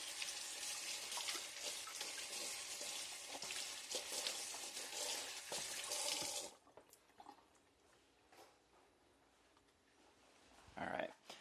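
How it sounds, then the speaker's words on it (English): Tap water pouring in a steady hiss while a NutriBullet blender lid is rinsed, stopping partway through, followed by quieter clatter and handling with a short splashy burst near the end. "So let's go ahead and rinse our lid off,"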